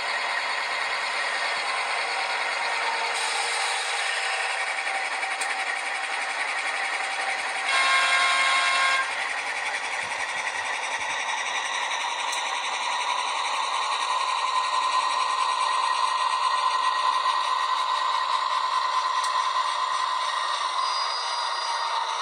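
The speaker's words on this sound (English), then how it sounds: "Nice little brake squeal there." A model NR class locomotive's DCC sound decoder plays a droning diesel engine with a high, thin brake squeal that rings out over the engine toward the end. The sound is continuous and moderately loud.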